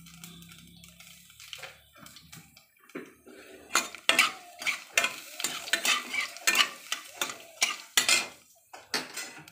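Bay leaves and nigella seeds dropped into hot oil in a kadai over a lowered gas flame, with light sizzling under a series of sharp metallic scrapes and spoon clinks, close and fairly loud.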